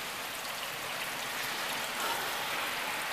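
Steady rain falls, a soft continuous hiss of drops hitting surfaces, fairly quiet and even with no voices.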